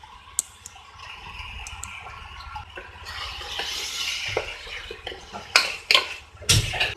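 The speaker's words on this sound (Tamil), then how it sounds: "இப்போ இந்த சிக்கன் இதில் சேர்த்துக்கலாம்." Chicken pieces tumble into masala in a pan for Thoothukudi chicken salna and are stirred, with a soft sizzle, scraping spoon clinks and a few sharp metal clanks near the end, close by with no talking.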